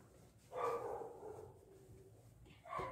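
A dog barks outside a house during a home cleaning, one sustained bark-like burst followed by a shorter one near the end, moderately distant and not loud.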